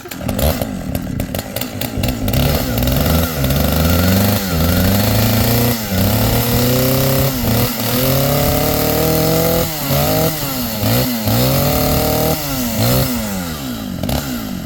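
Large vintage chainsaw, likely around 100cc, running loudly and steadily, with repeated revving surges and throttle changes throughout, close by and alone without talk.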